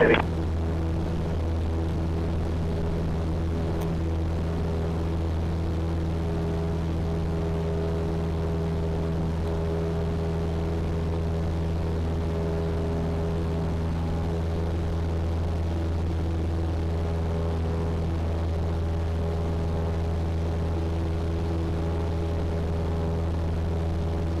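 Steady engine and propeller drone of a light airplane climbing at full power out of the traffic pattern at Caldwell Airport, loud, close and unbroken throughout, with no talk.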